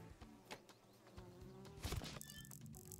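Bees buzzing in Ultimate Chicken Horse, a steady insect drone with sharp game clicks and a brief louder burst near the end, fairly faint.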